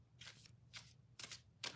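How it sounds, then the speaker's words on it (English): Tarot cards shuffled by hand in four quick riffling bursts separated by short pauses, close and fairly quiet, with no talking. "apparently I'm having difficulty shuffling today"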